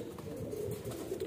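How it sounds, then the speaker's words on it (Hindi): A pigeon coos softly in repeated low, throaty pulses, faint and close, with no other sound around it. "ये है वो कबूतर जो आज हमने भेजना है कराची"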